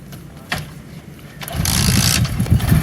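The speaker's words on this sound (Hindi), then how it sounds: "ये बाइक स्टार्ट की" A motorbike engine starts up with a couple of sharp clicks and catches, building into a rough, close running rumble that grows louder toward the end.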